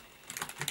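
Quick burst of typing on a computer keyboard while entering a terminal command on a Raspberry Pi, a handful of soft, close key clicks lasting under a second.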